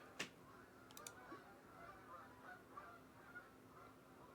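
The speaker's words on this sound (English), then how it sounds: "I hear just like a ton of birds flying" Geese honk in a flock overhead, faint and distant, with scattered brief calls over a steady low background hum.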